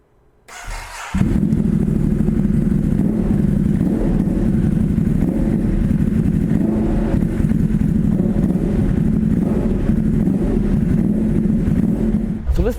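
A Ducati motorcycle riding at speed, its engine droning steadily with a strong low hum and rushing wind noise, loud and close throughout after a brief quiet start.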